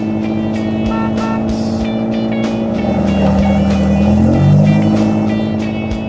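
A car driven fast, its engine a loud, steady, close roar that climbs in pitch as it accelerates midway, then settles, with no voices.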